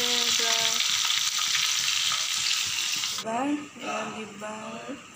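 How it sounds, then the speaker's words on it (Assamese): Fish frying in a pan gives a steady, close sizzle for the first three seconds, then quietens while a voice talks over the crackle. "এইফালে আমাৰ মাছ ফ্ৰাই হৈ আছে"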